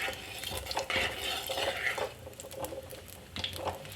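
Lemons are sautéed in sesame oil in a pan for pickle, giving a steady soft sizzle broken by repeated scraping and stirring strokes of a utensil, close and fairly quiet, with no voices.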